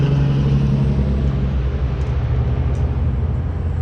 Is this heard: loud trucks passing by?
yes